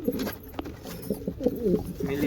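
Pigeons cooing near a rooftop, several soft low throaty coos repeating close by, with faint background sounds and no clear talk over them.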